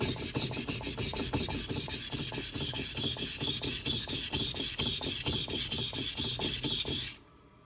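A knife blade is sharpened on a Suehiro whetstone with a Naniwa angle guide, giving rhythmic, close, even rasping strokes at a steady pace for about seven seconds before stopping.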